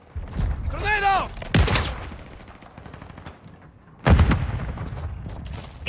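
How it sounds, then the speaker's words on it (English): A grenade explosion and gunfire in a video game, with loud booming blasts and bursts of rapid shots near the start and again later, a quieter stretch between, and a voice cry mixed in. "Grenade out!"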